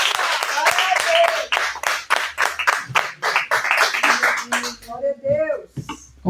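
A church congregation claps in quick sharp bursts with voices mixed in, and the clapping gives way to a speaking voice toward the end.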